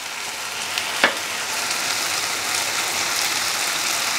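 Tomato paste masala fries in a pan with a dense, even sizzling hiss throughout, broken by one brief utensil tap near the start.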